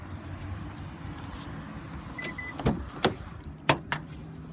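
The smart trunk of a 2016 Hyundai Tucson Sport AWD opens with a low motor hum, followed by several sharp latch clicks and thumps close by.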